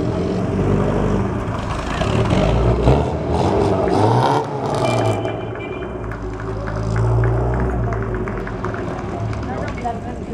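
A small four-cylinder classic English car's engine runs with a low, steady hum and slight revving swells, largely under continuous spoken commentary at an outdoor classic car gathering.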